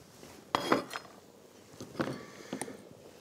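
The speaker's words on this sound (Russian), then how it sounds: "Я возьму дополнительную тарелку." A plate being taken from a stack in a home kitchen while hake soup is prepared, giving a few sharp ceramic clinks and clatters close by, spaced out over a few seconds, with no talking.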